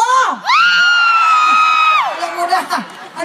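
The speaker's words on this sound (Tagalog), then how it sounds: "Sino mga sumisigaw doon?" At a concert in Hawaii, a large crowd shouts, whoops and cheers loudly around a long, rising and falling high-pitched yell from the audience.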